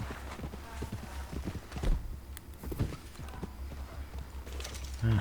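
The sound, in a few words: horse hooves clip-clop from a video game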